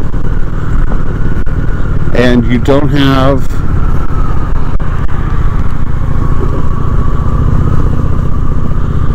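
A Honda Shadow 750 ACE motorcycle cruising on an interstate, its steady engine drone and wind rush loud and constant, while a rider talks over it.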